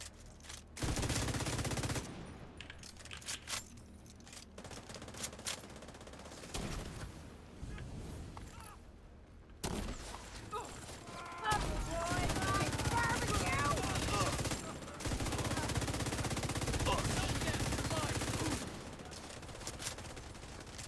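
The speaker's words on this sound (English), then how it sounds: "Some shooting." Video game gunfire rattles in rapid bursts and sustained volleys, with loud stretches broken by brief gaps, and a voice speaks over the shooting at times.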